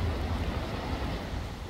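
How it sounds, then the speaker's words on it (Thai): A stream tumbling like a small waterfall gives a continuous, close rushing roar with a heavy low rumble and some wind buffeting, and nobody speaks. "มันเป็นลำธารโอ้โหเหมือนเป็นน้ำตกครับ"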